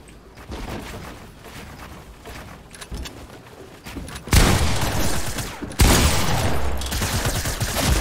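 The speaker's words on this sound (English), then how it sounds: "I missed all my SMG shots there" SMG fire in Fortnite, with quick rattling bursts that start softer and then become loud, sustained sprays of rapid shots with a brief pause between the two heavy volleys.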